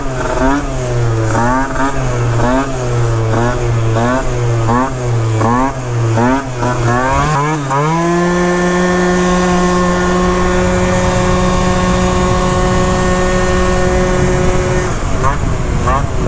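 A Phantom F12 bike with a 70cc single-ring race cylinder revs loudly up close, first in rapid pulsing blips, then held at a high, steady whine before dropping off.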